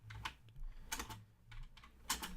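Quiet clicks of keys on a computer keyboard, a few short bursts of typing spaced apart with brief pauses between them, close and soft with no talking.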